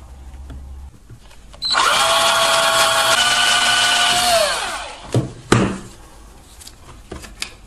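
A power drill whirs steadily for a few seconds drilling holes in a component tester case, its pitch dropping slightly before it winds down, followed by a couple of sharp clunks.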